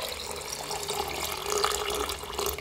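A bowl of clean water pours steadily onto washed glutinous rice in a rice cooker, a continuous close splashing rush lasting a few seconds without pause.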